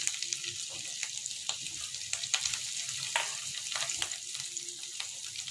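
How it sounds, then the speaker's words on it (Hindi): Ginger and chopped garlic sizzle in hot oil in a pan, giving a steady crackling fry with sharp pops and spatters, close and moderately quiet, with no speech. "और अब मैं इसमें डालूंगी ये अदरक, और इसी के साथ मैं इसमें डालूंगी कटा हुआ लहसुन"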